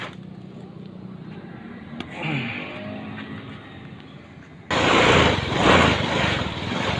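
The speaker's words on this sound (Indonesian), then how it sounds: "Oke, motornya udah nyala ya." An automatic Honda scooter engine starts after a quiet stretch with faint mechanical noise, then settles into a loud, steady running drone close by, with no talking.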